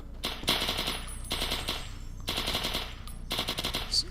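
Sterling SMG submachine gun firing in Fallout: New Vegas, loud sustained automatic bursts in four rapid strings separated by brief pauses, close and alone with no talk.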